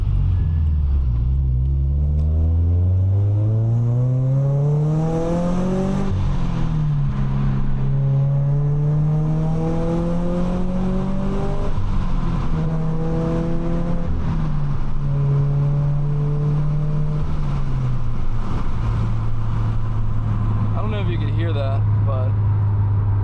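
A boosted Subaru BRZ engine revs up through rising gears at night, dropping and climbing in pitch, loud and close, with a voice speaking over it at points.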